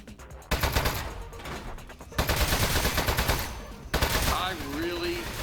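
Gunfire in the video game Aperture Desk Job, dense rapid bursts of shots filling the whole stretch in loud waves with brief dips between, alongside other game sounds.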